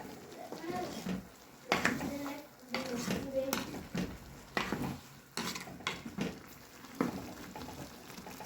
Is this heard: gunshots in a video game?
no